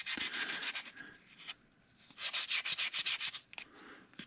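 Close, dry rasping strokes of 400 grit sandpaper on a carved wooden comfort bird, coming in quick rhythmic bursts with short pauses between, alone and fairly soft.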